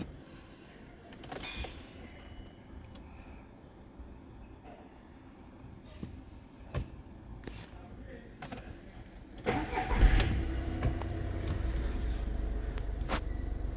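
A used Skoda Fabia Ambiente hatchback is heard with faint clicks and handling noises, then its engine cranks and catches near the end, settling into a steady, low idle close by.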